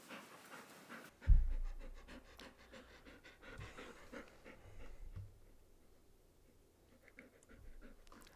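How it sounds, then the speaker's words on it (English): A dog pants rapidly and rhythmically close to the microphone after a sudden bump, with a quick steady huff of breaths and an occasional faint whimper, no talk over it. "I'm house sitting for my aunt and taking care of her dog, Bunny."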